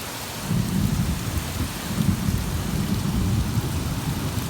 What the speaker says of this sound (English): Just because of the downpours and all the thunder and lightning.